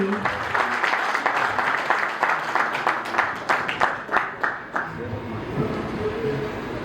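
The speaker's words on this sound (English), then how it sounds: "I would now like to invite on stage with a big round of applause our director, Mr. Harsh Bhansali." An audience at a company's 40th anniversary celebration gives a round of applause as a director is invited on stage. Dense clapping swells, turns briefly rhythmic, then tapers away.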